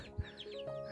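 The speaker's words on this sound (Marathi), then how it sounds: "गावठी कोंबड्या" A single short cluck from country hens kept at a village home in Koloshi, Devgad, in rural Konkan, heard close and alone.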